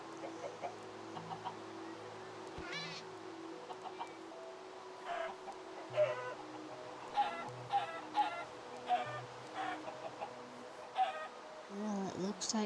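Chickens cluck in a video game while a bear-themed castle is being built: a run of short, repeated clucks, fairly close and moderately loud, over a steady low hum of game ambience.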